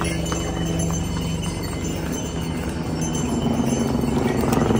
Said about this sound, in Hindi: और ये हमारा घोड़ा है जिसका नाम काजल पहले बोला था